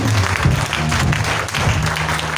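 A church congregation claps and cheers together during a worship service, a dense, sustained wash of applause filling the space throughout, with faint voices mixed in.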